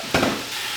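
Ingredients hit hot oil in a pot and burst into a loud, close sizzle with a quick stir, then settle into a steady frying crackle.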